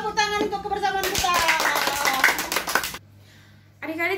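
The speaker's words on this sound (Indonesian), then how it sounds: "Tepuk tangan untuk kebersamaan kita." A children's Sunday school group at a church service claps hands in a quick burst of rhythmic claps, with an adult voice speaking over and after the clapping.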